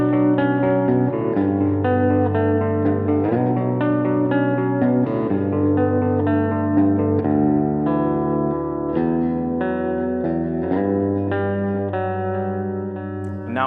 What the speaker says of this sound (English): I'm going to start off with the clean tones on the bridge humbucker.